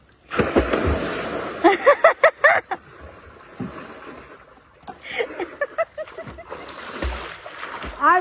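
Water splashes as someone jumps into a village pond for a bath, several sharp splashy bursts between people talking and laughing nearby, with quieter rippling water in between.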